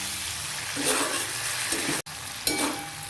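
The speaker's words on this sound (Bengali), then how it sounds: "চলুন একটু নাড়াচাড়া করে দেখাই আপনাদের" Prawns sizzle loudly in hot oil in a pan while being stirred and turned, a dense close crackle with scraping strokes and a brief break partway through, no voices.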